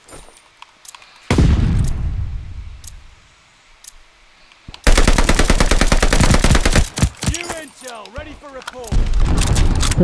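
Rapid gunfire in Call of Duty Vanguard with an STG rifle, loud and close: a single heavy blast that fades out, then a long sustained automatic burst, short bursts and further rapid fire, with a voice speaking among the shots.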